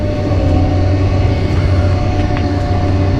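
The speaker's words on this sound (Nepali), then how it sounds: "यो खेतबाट आएको जस्तो ट्र्याक्टर भर्खरै।" A tractor just in from the fields passes along a rural road near Brussels, a loud, steady, low engine rumble with a droning hum that holds evenly throughout, with no talking.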